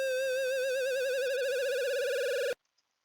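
A synth tone made with a simple online tool, a bright harmonic drone with fast heavy vibrato that seems to slide downward, steady and alone, cutting off abruptly after about two and a half seconds.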